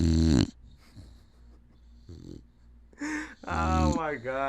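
A three-year-old pet dog snorts and snuffles close by in a quiet indoor room, with a few short nasal bursts between brief spells of human talk.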